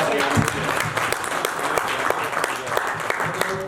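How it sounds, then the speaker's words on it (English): Audience applause at an international education talk show, a loud, steady round of clapping from a seated crowd with background voices and a few sharper claps standing out. "Can we have a big round of applause for our"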